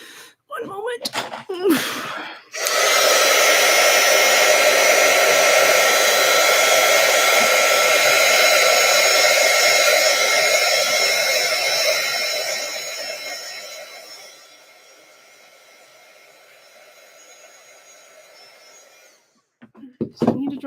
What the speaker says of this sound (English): I want to dry this off with my little heat drying tool, my heat gun